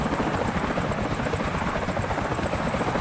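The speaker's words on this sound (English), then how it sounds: "Man, I really dig this riding in on that helicopter." A helicopter from a VR dinosaur-hunting game on Island 359 thrums steadily and loudly, its dense rotor chop and engine drone continuous and close throughout with no voices.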